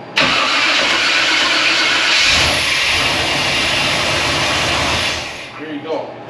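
An old truck engine cranks and catches, then runs at a loud, steady rumbling idle for several seconds before fading as it is shut down.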